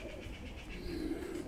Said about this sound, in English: this poor thing now sounds like it's the home to many, many pigeons, because that's all I can hear.